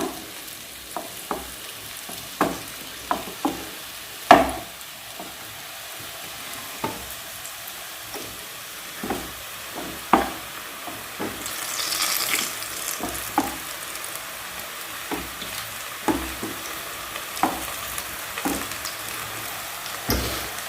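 Papdi sev dough pressed into hot oil, frying with a steady soft sizzle broken by sharp clicks and taps of a utensil against the pan, plus a brief louder hiss of bubbling midway.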